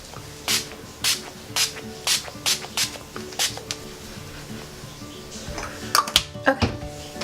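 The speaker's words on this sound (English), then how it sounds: "the mist on it's actually pretty good as long as you do like a full pump, not half a pump" Wet n Wild Photo Focus setting spray is pumped in a quick series of about ten short, sharp hissing mist bursts, then a pause and a few more sprays.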